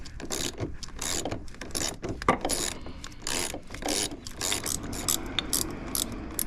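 Rapid ratchet clicking from a 12 mm socket loosening a bolt on a Lexus ISF, close up and steady in repeated strokes with short breaks.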